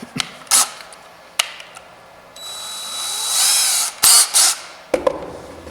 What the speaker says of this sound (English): And drill my hole.